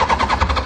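A Honda CBR1000F motorcycle engine with baffles in the exhaust catches and runs, giving a brief, loud, evenly pulsing throb heard close up on its own.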